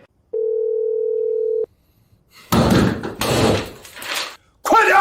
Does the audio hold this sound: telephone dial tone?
yes